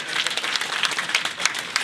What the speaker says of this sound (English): Feel free to cheer.